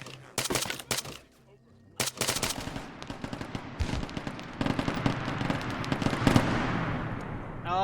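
Gunfire and explosions in the Arma 3 video game, a Warhammer 40k mod, with sharp bursts of rapid shots, loud cracks and booms, then a dense, continuous clatter of fire.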